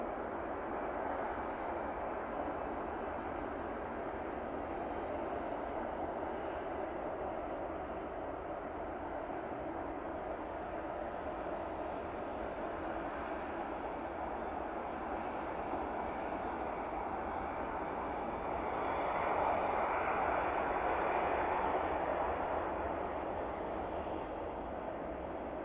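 An aircraft taxis toward a cargo apron at East Midlands Airport, heading for a stand beside a Cessna Caravan: a steady, moderately distant engine rumble and whine that holds evenly throughout, swelling slightly near the end, with no talk.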